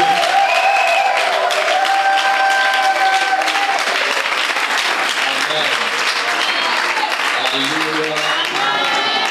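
A church congregation claps and cheers loudly and continuously at a sermon, with dense applause and voices mixed throughout.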